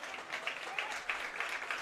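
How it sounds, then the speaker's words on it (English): A high school football crowd applauds an injured player at a Pittsfield vs. Stanford Olympia game, a steady patter of distant clapping with faint pulses of swelling. "Crowd will give him a round of applause"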